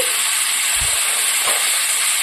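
Tomatoes and green chillies frying in a pan for raw tomato chutney give a steady, close sizzling hiss that runs throughout, with a couple of soft low bumps and no talk.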